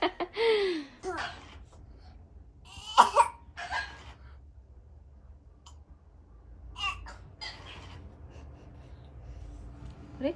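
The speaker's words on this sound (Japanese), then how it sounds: "咳出たの？" A small child fakes coughs at home, giving several short, breathy coughing bursts spaced out between quiet moments, with soft vocal sounds mixed in.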